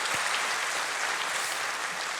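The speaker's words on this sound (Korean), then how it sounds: "우리 하나님께 영광의 박수를 드리겠습니다." A church congregation applauds to give glory to God, a smooth continuous roar of many hands clapping, moderately distant and even in level with no individual claps standing out.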